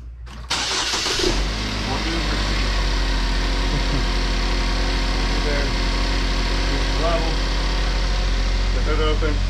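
A 2015 GMC Terrain engine catches on start-up and settles into a steady, loud, close idle with a continuous low hum that runs unbroken to the end.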